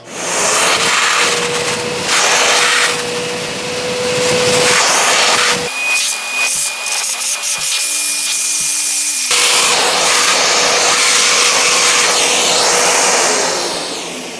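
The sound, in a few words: EXPOWER industrial vacuum cleaner running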